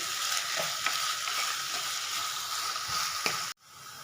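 Onions sauté with salt in a hot pan, a constant close sizzle with small stirring scrapes and pops, ending with a sudden clunk as the sound cuts off.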